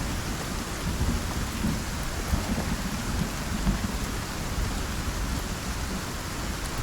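Rainstorm with thunder on a mountainside in the survival game Icarus: constant dense rain hiss and deep rolling rumble, loud and unbroken throughout, with no speech.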